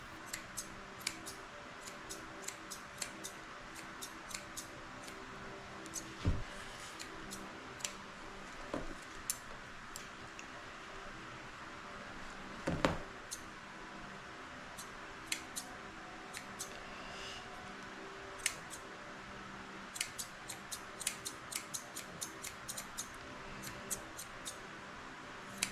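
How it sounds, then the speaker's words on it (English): Curved scissors trim the face of a senior Shih Tzu during grooming, giving quiet, irregular snips and clicks spread across the whole span, with no talk. "I'm using my curved scissors to make his face nice and round."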